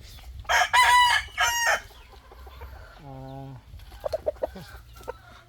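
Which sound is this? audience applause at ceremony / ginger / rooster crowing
rooster crowing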